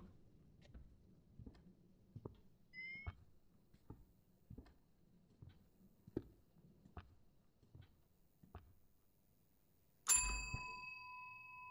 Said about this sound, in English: I keep on ringing the stupid bell.